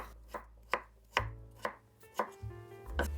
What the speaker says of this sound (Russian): Режу его небольшими кубиками, так он быстрее сварится.